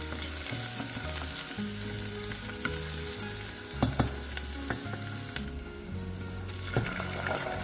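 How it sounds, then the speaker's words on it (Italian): About three or four tablespoons of extra virgin olive oil sizzle steadily in a pan while something is sautéed, with a constant crackling hiss and occasional clinks from stirring throughout. "La soffriggiamo in circa 3 o 4 cucchiai di olio extravergine di oliva."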